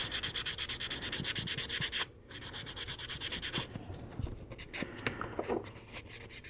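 Soft resin being sanded by hand, a steady run of close, rhythmic scratchy rubbing strokes for about two seconds, then a quieter stretch of lighter, intermittent scraping and rubbing.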